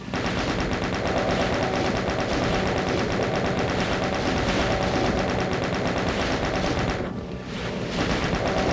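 Sustained rapid automatic chaingun fire in Doom II, loud and nearly unbroken, with a brief dip in the shooting near the end.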